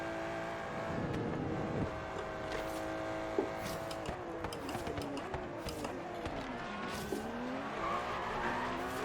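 Ferrari FXX race car in Forza Horizon 3, engine roaring steadily with revs climbing and falling, tire squeals and skids, a car pulling past close by.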